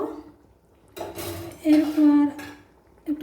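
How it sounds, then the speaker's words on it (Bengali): A utensil stirs spicy paneer malai curry with paneer pieces in a pan, giving scraping clinks and clatter in a few separate bursts, including a brief squeaky scrape, close and moderately loud. "বেঁচে রাখা পনিরের টুকরোগুলো দিয়ে দিলাম এরভাবে মিশে নেব"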